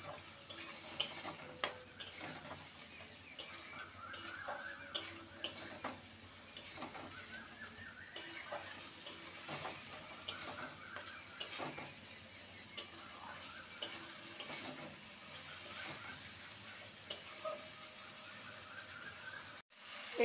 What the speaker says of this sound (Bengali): মশলাটাকে ভালো মতন কষিয়ে নেব